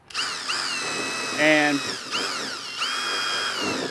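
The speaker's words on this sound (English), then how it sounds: "Next, I'm just going to drill a hole in this 2x2." A power drill bores a small pilot hole into a wooden 2x2, its motor whining high and loud close by in several rising bursts with short pauses, and someone speaks briefly.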